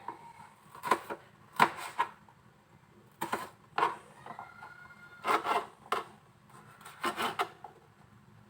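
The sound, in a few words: chopping chili peppers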